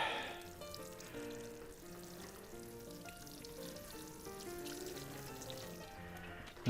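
Water poured from above onto potato plants growing in buckets, a steady close splashing and trickling that runs unbroken for several seconds with no talking.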